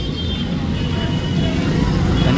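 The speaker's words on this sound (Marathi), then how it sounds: "हे बघा इकडे पूर्ण ट्रॅफिक जाम करून टाकली आहे" A jammed street during a Navratri procession gives off a steady low rumble of idling cars and buses, a dense continuous roadway drone with faint crowd murmur mixed in.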